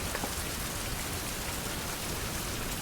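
Rain in a survival building game falls as a dense, steady hiss of drops that fills the whole short stretch evenly, with no voices.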